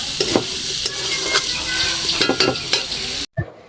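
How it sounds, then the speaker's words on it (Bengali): Pumpkin pieces fry in hot oil in a pan over a clay stove, giving a steady close sizzle broken by the scrape and clink of stirring. Near the end the sound cuts out briefly, then returns with one more clatter. "প্রথমেই কুমড়োটা ভেজে নিচ্ছি"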